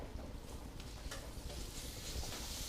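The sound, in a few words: ground beef frying in a pan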